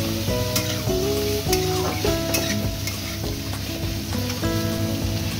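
Beans and mixed vegetables with a little salt frying together in a pan, giving a steady sizzle with occasional stirring clatter, set against a continuous tonal melody in the background.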